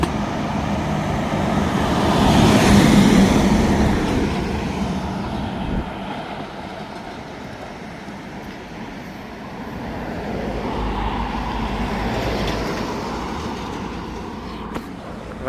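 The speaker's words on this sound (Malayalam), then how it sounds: "ഇവിടുത്തെ ട്രക്കൊക്കെ പോകുന്ന കണ്ടോ," Heavy trucks labour along a hilly road on a Sydney to Cape York route, a continuous engine roar that swells near the start and again later as vehicles pass, with no talking.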